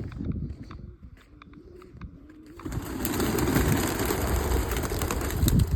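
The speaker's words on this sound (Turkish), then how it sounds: "İçine bayağı kuş var." Soft pigeon-like cooing echoes inside a cave at first, then a louder rushing, fluttering noise swells and fills the space, with faint shuffling sounds.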